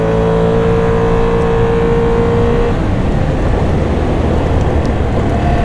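A Can-Am Outlander XT-P 1000 R quad accelerates hard along an off-road trail. Its engine roars loud and close with a steady rising drone, then turns into a broad rough rumble as speed builds, with no voices.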